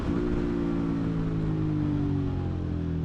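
A 2019 Suzuki V-Strom 650 motorcycle with a non-stock exhaust idles low, a steady, grumbly engine rumble. It is close and moderately loud, with no talking.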